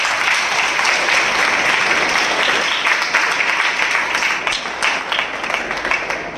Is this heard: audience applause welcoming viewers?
yes